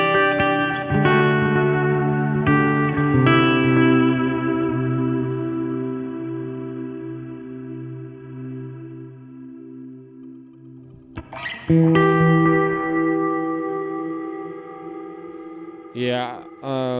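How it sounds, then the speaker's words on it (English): Electric guitar played through a Line 6 Helix ambient effect, giving a dreamy tone: sustained chords ring out with heavy reverb and echo, a fresh strum lands near the end, followed by a short burst of noise. "So I could go to my ambient and still have a nice kind of dreamy sound."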